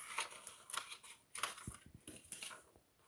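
Paper shape being cut with scissors: a run of crisp snips and rustles, fairly close, with a few sharper clicks partway through and no talking.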